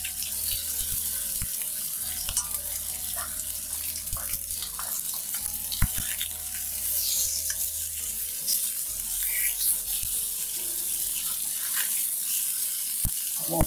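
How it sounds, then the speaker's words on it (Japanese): Kinmedai (golden-eye snapper) searing in a frying pan, a soft steady sizzle with occasional pops and faint utensil clinks throughout, heard alone without talk. "で、これ軽く焼き目がつけばいいんだよ。"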